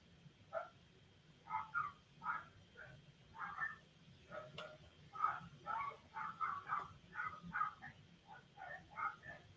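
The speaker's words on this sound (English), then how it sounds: "Can you guys hear my dogs out there going crazy on something?" Several dogs bark excitedly outside, heard from indoors as a faint, distant run of repeated barks and yips in irregular bursts that keep going without pause.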